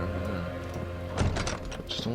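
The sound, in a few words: door closing in video game Amnesia: The Dark Descent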